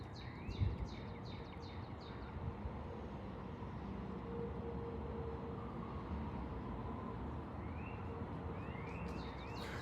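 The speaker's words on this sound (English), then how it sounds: "to point out that you hear those birds singing like that," Birds singing outdoors, faint chirps and short twittering phrases appearing briefly at the start and again near the end over a constant wash of broadband background noise.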